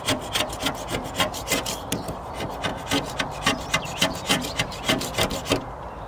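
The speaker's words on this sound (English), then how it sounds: "I'm just marking up the holes that need drilling for the stands with a pencil there" A pencil scratches marks for drill holes for solar-panel stands, making a steady run of short, close, rhythmic rubbing strokes with no voices.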